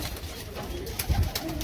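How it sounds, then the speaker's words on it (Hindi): Teddy pigeons in a loft in Sangrampur, Jammu, give soft, low coos, with a short cluster of throaty notes near the end amid faint background noise. "ये देखें कबूतर, सारे टैडी कबूतर हैं।"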